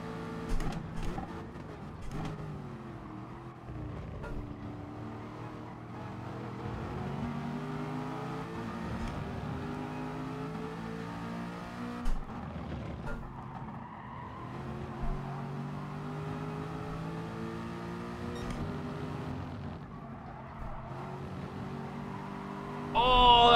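McLaren race car in GT Sport, its engine note rising and falling through repeated gear changes over a long stretch, steady and prominent with occasional sharp clicks.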